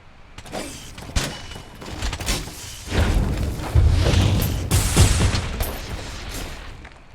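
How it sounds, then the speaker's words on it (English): Charge blade elemental discharge in Monster Hunter World, a rapid string of loud booming explosions and crackling bursts that build and roll on continuously. "Look at the charge blade discharge now."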